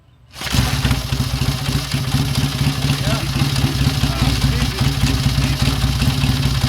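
A 1949 Indian Scout motorcycle engine catches after a short quiet moment and settles into a loud, steady, thumping idle close by.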